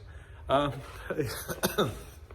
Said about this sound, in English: Excuse me, I've got a bit of a cough.